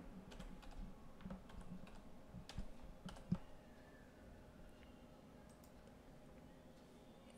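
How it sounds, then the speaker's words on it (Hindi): Quiet, close tapping on a computer keyboard, a quick irregular run of light clicks that thins out into sparse keystrokes, with no talk. "यहां पर मैं टाइप कर देता हूं"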